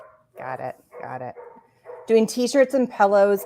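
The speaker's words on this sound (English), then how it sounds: "the dogs just barking their heads off outside" Dogs barking outside in short bursts, muffled and mid-distance, while people talk over the top.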